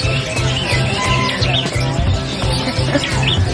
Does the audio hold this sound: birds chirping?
yes